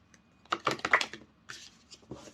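Rapid papery flicks and riffles of tarot cards being shuffled up close, in two uneven bursts separated by a short pause.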